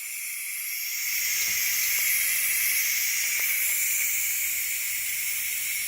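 Steam hisses steadily from the pressure release valve of a Ninja Foodi pressure cooker, a bright continuous jet that starts abruptly and stays loud and close, with a few faint clicks underneath.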